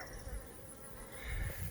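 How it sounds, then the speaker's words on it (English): Honey bees buzzing at a hive packed with bees at midday, a dense continuous drone close by, swelling slightly toward the end with no talk over it. "this hive here that is boiling over with bees"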